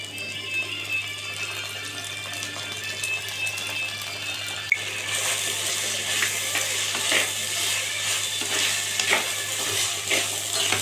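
Ginger garlic paste hits the pan for a Kerala-style chicken biryani: a quiet hum gives way to a sudden loud, bright sizzle that keeps crackling as it is stirred, with no voices.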